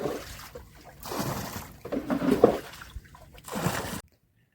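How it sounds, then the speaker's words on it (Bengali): Water splashing and trickling off a fishing net hauled aboard a boat during night fishing in the Sundarbans, coming in several uneven bursts of splatter and dribble, close by, before cutting off. "আমাদের যখন জাল টানা হয় তখন কিন্তু জালের অনেক জল ওঠে, সেই সমস্ত জলগুলো কমানো হচ্ছে"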